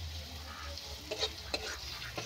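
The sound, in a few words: onions frying and being stirred in pan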